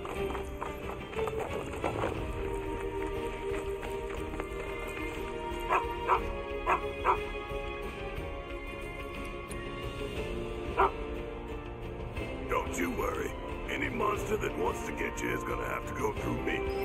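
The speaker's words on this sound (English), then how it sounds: "The dog." A dog in Final Fantasy 7 Rebirth barks and yips in short bursts scattered over background game music and ambience, moderately close, with occasional whimpering sounds.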